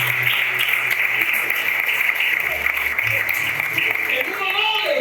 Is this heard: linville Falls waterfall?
no